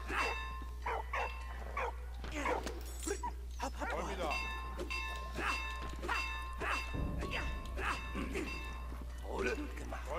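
A dog in the WWI video game Valiant Hearts: The Great War barks repeatedly in short, irregular bursts over a steady low game hum, with bell-like tones and some thuds mixed in.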